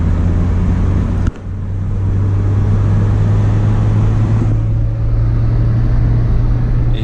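A car accelerating with its engine revving, a loud steady low engine drone with a brief dip early on, then continuing strongly, alone without talk.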